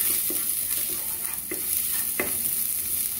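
Chopped green onion sizzles and fries in a pan while being stirred, giving a continuous crackle with a few sharper scraping strokes, up close and with no talk.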